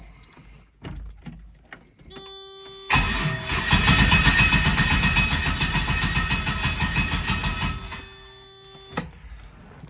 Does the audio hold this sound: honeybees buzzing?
no